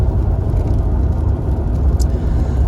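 A car rolls along a ridge road between Monticello and Bastrop, giving a steady low rumble of engine and tyre noise from inside the cabin, continuous and fairly loud with no talking.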